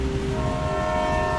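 A train passes close on a railway, a loud steady rumble with a sustained horn-like tone droning over it for the whole moment, no voices.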